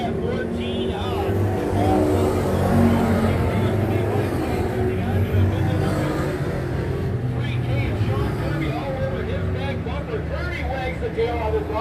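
Race cars roaring around the north end and down the front stretch of the Can-Am Speedway, a continuous engine drone under excited announcer commentary.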